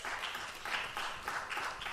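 Scattered audience applause rises at a panel discussion, a brief, moderately loud patter of many hands clapping.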